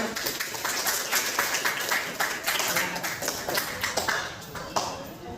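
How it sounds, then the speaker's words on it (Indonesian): Classroom applause for group 1 after their presentation, many hands clapping together in a dense, steady patter that runs the whole time with a slight swell and fade. "kita berikan aplaus untuk kelompok 1"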